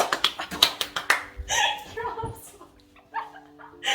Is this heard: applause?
yes